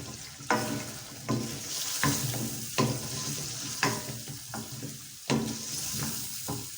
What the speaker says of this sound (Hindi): तो ये जी मैं इसमें डाल दी है शलजम और अब हम इसकी करेंगे अच्छे से भुनाई